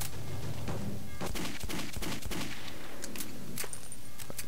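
Rapid gunfire in the shooter game Metro 2033, with loud, irregular bursts of cracking shots crowding together over several seconds, dense and close.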